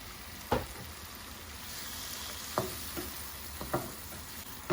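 Liver sizzling in butter with onion in a pan, a steady broadband frying hiss broken by a few sharp stirring scrapes, fairly close and with no one speaking.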